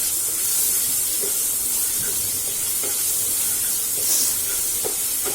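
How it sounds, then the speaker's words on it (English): Steady loud sizzle of ginger garlic paste frying in a curry mix in a pan, with occasional faint stirring scrapes and no voices. "Our mix is cooking well, and now we are going to add 1 tablespoon of ginger garlic paste."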